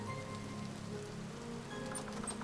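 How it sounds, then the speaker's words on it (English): Steady, even patter of rain falling in the survival game Vintage Story, a continuous soft hiss of drops on surfaces that runs unbroken throughout, with no talk over it. "Oh, it's raining."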